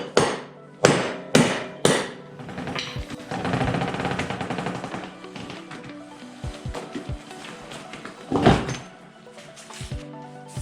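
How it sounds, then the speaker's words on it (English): A hammer strikes metal, with three sharp bangs at the start, then ratcheting metallic clatter, another loud clank and scattered knocks. "Hammer."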